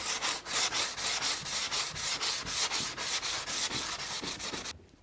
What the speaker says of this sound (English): now I'm gonna start just sanding this back a bit